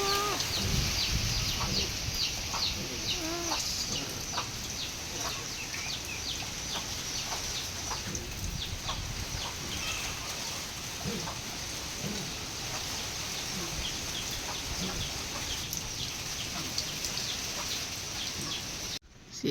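Hungry farmyard chickens cluck steadily in short repeated calls over a constant wash of wind and rain after a passing typhoon, the birds moderately close and no voices speaking.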